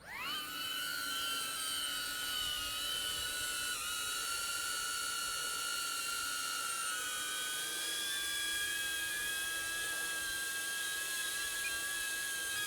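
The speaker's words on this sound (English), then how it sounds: "we got the drone fired up, and I'm ready to go." A DJI Avata FPV drone hovers with its propellers spinning, giving a steady, loud, high-pitched whine that runs unbroken for the whole stretch. No one speaks over it.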